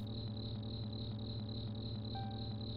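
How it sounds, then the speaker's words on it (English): Crickets in the city level of the Alien Invasion video game chirp in a steady, rapid pulsing rhythm throughout, loud and unbroken with no talk over them. "What we hear is crickets in the city."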